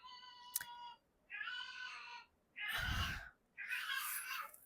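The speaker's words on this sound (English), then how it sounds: "that is my cat playing with her toy" A pet cat playing with her toy gives a series of four short, fairly close meowing calls, each about a second long and separated by brief pauses, with a sharp click just before the first.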